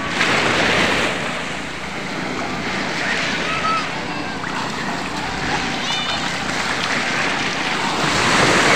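Waves wash continuously onto a white sand beach at Talicud Island, Mindanao, with gusty wind buffeting the microphone and faint voices in the background.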